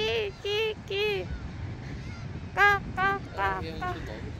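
Seagulls at the seaside at Jumunjin, Gangneung, give harsh, nasal calls: three close together, a pause, then a quicker run of four over faint background noise.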